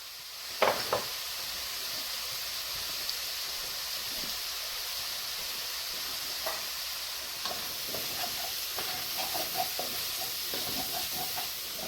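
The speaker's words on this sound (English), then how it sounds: "as these are sauteing, as it's sauteing, it's cleaning up the coating on the bottom" Beef stew ingredients, marinated in red wine, sauté in a pan with a soft, continuous sizzle and hiss. Scattered scrapes and clicks of stirring come through, mostly in the later part.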